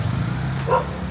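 A single short dog bark rings out close by over a steady low engine-like hum.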